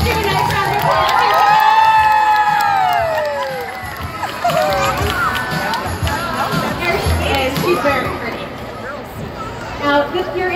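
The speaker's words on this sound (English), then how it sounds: "Let's give a nice round of applause." An audience at a mall show cheers and shouts, with children's voices prominent. A loud burst of whooping is followed by lively crowd noise and scattered clapping.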